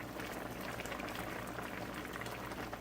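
Chicken curry simmers and boils in a pot, a dense, continuous bubbling and popping with a steady level and no voices.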